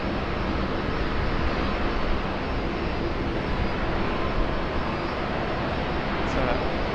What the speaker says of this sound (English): Here she comes, Malaysian 122 heading off to Kuala Lumpur, the A330 300 in the Mega Raku livery.